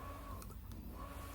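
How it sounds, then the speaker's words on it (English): A 3D printer runs quietly in the background of an indoor room, giving a faint, steady mechanical hum with brief whirring motor movements and no talking over it. "you can probably hear my printer in the background."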